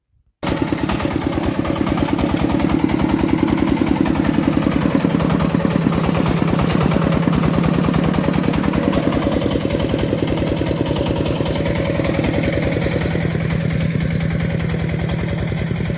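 Walk-behind tractor (motoblock) with an upgraded rotary tiller running while weeding between rows of pumpkins, its engine starting abruptly and then chugging loud and steady at close range with no one talking.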